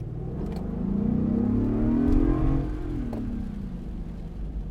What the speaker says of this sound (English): that supercharged engine, you can hear it.